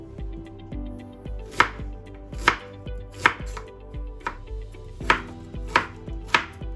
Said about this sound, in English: Then cut them into small cubes.